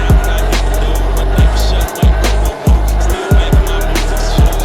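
A minibike engine revs hard during a wheelie, with a loud buzzing close-up drone that climbs and dips as the throttle is blipped again and again, the pitch dropping briefly between pulls.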